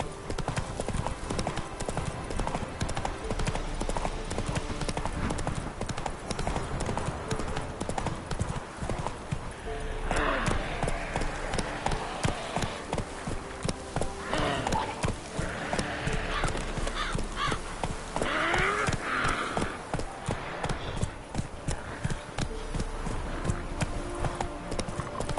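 Roach, the horse in The Witcher 3, gallops with a long, continuous run of rapid hoofbeats, whinnying now and then, with some talking mixed in over the steady drumming.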